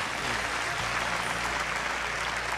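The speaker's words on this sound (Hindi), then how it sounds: "ताली बजाई भाई, ताली बजाई भाई।" Studio audience clapping on a televised singing competition stage, continuous loud applause that fills the whole moment without letup.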